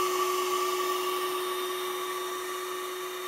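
A refrigeration unit on a Tamiya 1/14 scale reefer trailer model, a continuous steady electric whine with a high tonal hum, loud and close with no other sounds.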